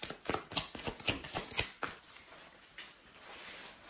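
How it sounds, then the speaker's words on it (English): A cat paws at a plastic shopping bag, making a quick run of crisp crinkling rustles close by, then softer, sparser crackles as it settles. "trying to get into a plastic bag right now, one of my shopping bags"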